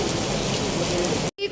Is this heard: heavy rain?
yes